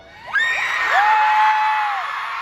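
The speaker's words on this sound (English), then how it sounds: "This is a vague thing to get a cheer." A convention panel audience at VidCon Anaheim cheers and whoops loudly, with rising and sustained high shouts over a dense crowd roar lasting a couple of seconds.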